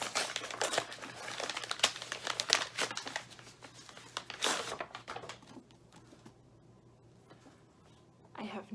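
Paper and tape crinkle and tear close up as someone struggles to open a tightly taped book package, busy rustling for several seconds and then going quiet, with a brief voice at the end.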